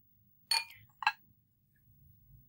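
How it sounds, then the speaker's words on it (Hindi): A spoon knocks twice against a bowl while mixing a rice-and-milk paste with aloe vera gel, giving two quick, faint clinks in an otherwise quiet room. "और इसको अच्छे तरीके से मिक्स कर लूँगी।"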